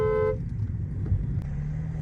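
A short car horn honks once at the start, followed by the low rumble of idling engines and busy road traffic nearby.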